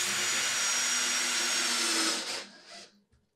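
A power driver snugs down screws on a wooden pedestal table build, giving a steady close whine that runs for about two seconds, then tapers off in a couple of short final spurts before stopping.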